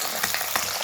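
Green chillies frying in hot oil for a tempering with chana dal, a brief close sizzle with a few crackling pops.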